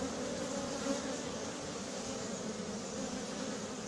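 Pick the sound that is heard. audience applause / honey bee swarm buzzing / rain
honey bee swarm buzzing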